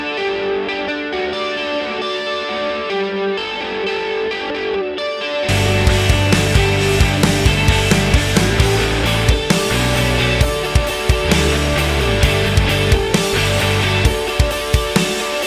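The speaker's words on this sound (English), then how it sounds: "just playing with like what's in the signal chain here between having some modulation, delay, and reverb." Electric guitar run through a TONEX rig with modulation, delay and reverb: a quiet, chorused, echoing passage swells into loud, distorted rhythm strumming with sharp repeated attacks, no talking.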